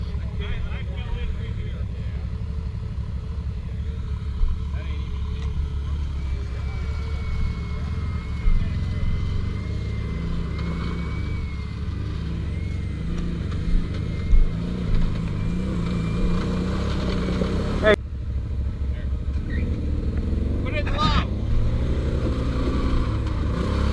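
A Can-Am Maverick Turbo four-seat UTV engine drones steadily up close, surging and revving as the vehicle is driven out of a ditch, with people talking over it throughout.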